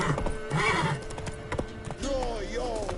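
Roach, the horse in The Witcher 3, gives a short whinny over clip-clopping hooves, close and fairly loud, with a voice talking over the sounds.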